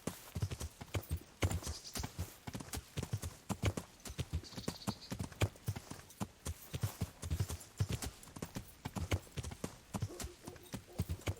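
A horse in Kingdom Come: Deliverance clip-clops at a steady gallop-like rhythm through woods, hooves thudding loud and close throughout with brief rustles, no voice heard.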